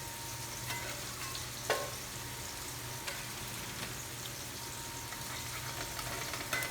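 Greek chicken burgers sizzle steadily in a hot frying pan, a dense continuous hiss with occasional clinks of a utensil moving them around.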